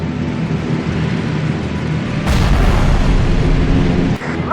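Gunfire hits a bomber in the WWII air-combat game Heroes Over Europe, a loud dense roar of engines and impacts with a sharp burst of heavier blasts midway, continuous throughout with no talk.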